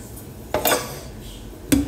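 Cabbage is dropped into a cooking pot in a home kitchen, giving two short clattering knocks of metal and contact about a second apart, close and fairly loud.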